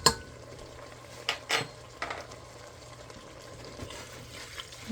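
A spoon stirs a teaspoon of Italian seasoning into a Hoover stew, a poor man's goulash, in a pot, making faint scrapes and a few light knocks against the pot over a quiet background.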